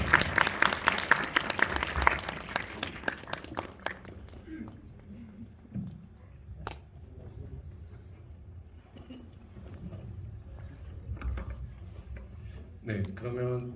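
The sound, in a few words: audience applause welcoming film directors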